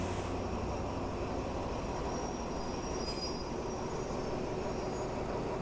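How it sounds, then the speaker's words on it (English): Ordinary commuter train number 384 pulls into Makkasan station in Bangkok in the early morning, giving a steady, loud rolling rumble with faint high wheel squeal and no voices. "ordinary train number 384 from Macassan Junction has just arrived"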